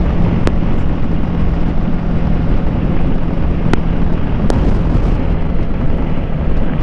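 Boat engine, the same Kawasaki Ninja 650 motor, roaring loud and steady up close with heavy wind buffeting the microphone, a few sharp clicks standing out.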